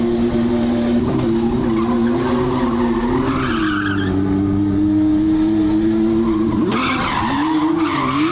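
A twin turbo Ferrari V12 car pulls away hard, its engine note rising and falling loudly with tire squeal and skidding throughout, no voices present.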